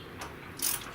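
A ratchet tightens a bolt on a car's front A-arm during a coil spring install, giving a few quick, close clicks within a single second.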